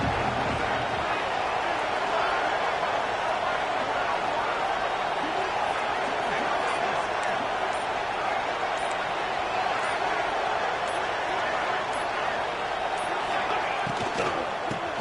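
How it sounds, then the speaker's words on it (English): A large football stadium crowd at an Ole Miss game, a broad, steady roar of noise building throughout, with a commentator's voice audible over it. "this crowd is ready"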